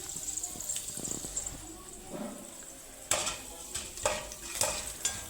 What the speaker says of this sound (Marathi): व्यवस्थित तळून घ्यायची यांचा कलर चेंज होईपर्यंत खूप मस्त क्रिस्पी होतात ह्या बिया